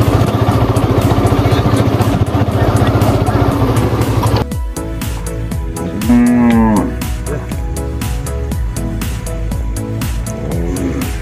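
A large herd of cattle kept on a sandbank in the Padma river lets out deep, drawn-out moos. One loud bellow stands close by. Steady rumbling noise runs under the first half, and sharp knocks and clatter follow.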